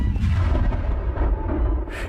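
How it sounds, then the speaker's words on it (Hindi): Cannon fire effect in a light and sound show on Ross Island, Andaman and Nicobar Islands: a sustained, loud, rumbling boom filling the whole moment with a brief sharper burst near the end, no voices. "हर रोज दोपहर को 12 तोपें छोड़ी जाती थी, ठीक 12 बजे, जिसकी गूंज पोर्ट ब्लेयर तक सुनाई देती थी।"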